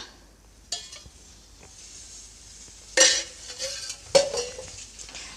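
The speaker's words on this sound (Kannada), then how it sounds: "ನಾನೀಗ ಅದನ್ನು ಫ್ರೈ ಮಾಡ್ಕೊಳ್ಳೋದಕ್ಕೆ ಎರಡು ಟೇಬಲ್ ಸ್ಪೂನಷ್ಟು ಎಣ್ಣೆನ ಹಾಕ್ಕೊಳ್ತೀನಿ" Okra fries in oil in a pan over medium flame. A soft sizzle runs under a few distinct metallic clinks and scrapes of a utensil against the pan, with quiet gaps between them.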